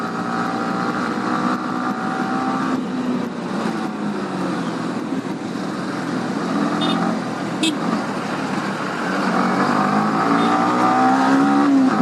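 A motorbike fitted with saddle bags ridden fast, its engine droning steadily and close throughout, with wind rush and rising revs toward the end; a voice talks over it at times.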